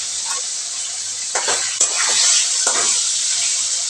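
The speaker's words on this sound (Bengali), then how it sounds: "তেল গরম হয়ে গেছে, মাছটা ছেড়ে দিচ্ছি। মাছটাকে আগে ভেজে নেব।" Bata fish drops into hot oil, bursting into a loud, close, steady sizzle with brief surges of spitting and crackling.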